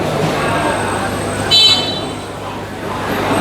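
A car horn gives a short honk in a traffic jam at a busy fish market in China, sounding over a steady background of crowd and traffic noise.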